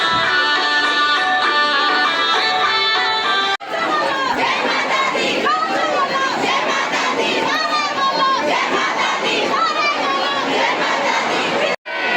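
A dense crowd of devotees packs Kalkaji temple in Delhi, with loud overlapping chatter, shouts and children's voices filling the space. The din stays continuous, close and crowded, with brief cuts between takes.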